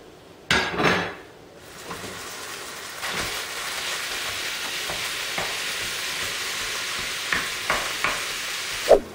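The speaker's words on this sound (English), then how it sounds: "our hamburger is browning nicely" Ground beef browning in a pan on a stovetop for homemade enchiladas, a steady moderate sizzle with a loud clatter at the start and scattered scrapes and taps of a utensil stirring the meat.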